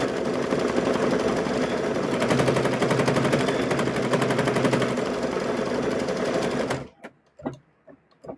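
Embroidery machine stitching a stuffed bear's eyes chatters in a fast, steady, close-up rhythm for about seven seconds before stopping, followed by a few faint taps.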